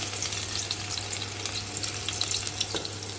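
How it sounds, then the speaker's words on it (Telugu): Garlic and cumin temper in hot oil, giving a dense, continuous sizzle and spatter close up, steady and loud with no talking. "ఆయిల్ వేగిపోయిందండి తాలింపు వేసుకుందామండి"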